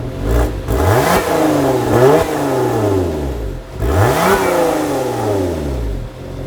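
A Lotus Emira's supercharged V6 engine revs hard several times, rising and falling in pitch with deep growling bursts, loud and close.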